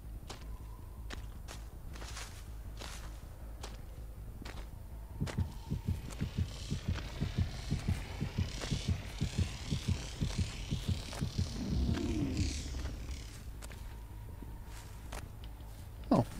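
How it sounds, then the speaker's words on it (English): Heartbeat thumps in the Dead by Daylight horror game, a steady double-pulse rhythm that grows louder and quicker midway, then fades back, heard alone over a low ambient hum with faint footsteps. "There's some heartbeats somewhere."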